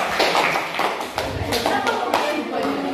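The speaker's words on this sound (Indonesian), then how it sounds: "Oke, tepuk tangan dulu untuk masing-masing kelompok" A classroom audience claps for each student group, brisk overlapping handclaps filling the room at close range, with voices talking over the clapping throughout.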